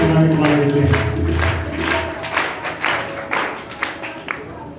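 A congregation claps at a healing prayer meeting. A burst of mixed clapping thins into separate, spaced claps that fade near the end, with low murmuring underneath.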